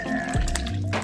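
Soured milk is poured into pancake mix in a home kitchen, a brief close liquid splash and glug lasting about a second.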